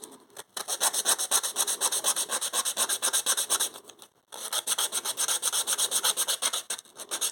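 Harsh, rhythmic rasping of a wooden lace bobbin stacker rubbed back and forth on rough sandpaper, fast repeated strokes close by, with one brief pause midway.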